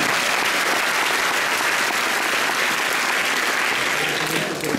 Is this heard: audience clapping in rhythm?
yes